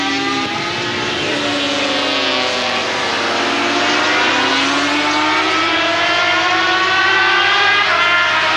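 Sidecar racing machines, including the All Bikes Racing Suzuki, howl past at the 2000 British round of the sidecar world cup, a loud sustained engine whine with shifting pitch as several outfits scream by together.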